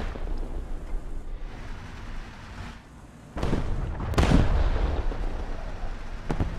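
Bradley M3A3 chain gun firing APFSDS rounds in War Thunder, heard as sharp booming bursts that jump in loudness midway, with a strong blast near four seconds over steady battle rumble.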